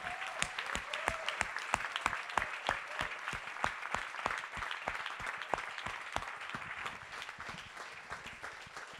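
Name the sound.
audience applause at closing remarks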